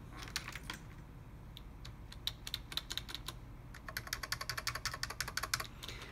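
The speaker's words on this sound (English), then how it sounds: "Let's see if we could press enter key." A computer keyboard is typed on in scattered single presses, then a quicker run of key clicks near the end, close and moderately quiet against a low background hum.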